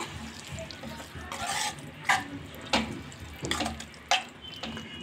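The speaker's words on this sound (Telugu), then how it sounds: "మనకు సరిపడా వాటర్ అయితే వేసుకోవాలి" Water splashes and pours in several short bursts, close up, into chutney being prepared, with brief gaps between each pour and no talking.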